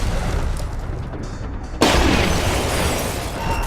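A frag grenade in Splinter Cell: Conviction goes off with a sudden, loud blast partway through, leaving a broad rumbling roar that slowly fades amid the combat noise.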